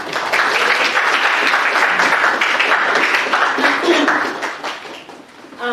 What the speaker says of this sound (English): Let's give a warm round of applause, y'all